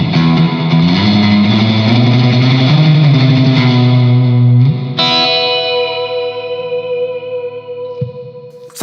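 An electric guitar through a Hughes & Kettner Black Spirit 200 amp head with reverb turned fully up rings out with heavy distortion, sustained chords ending in a long decaying tail that fades slowly.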